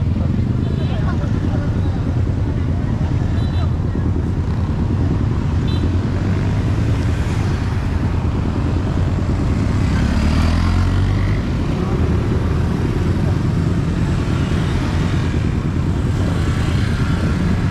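Road traffic with cars and motorcycles, engines humming and passing close by in a steady, loud wash of roadway noise, while people talk over it now and then.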